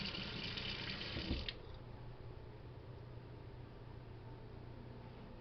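Warm water runs steadily from a kitchen tap, a loud even rush that shifts in tone partway through as the flow changes, then continues as a softer hiss until the end.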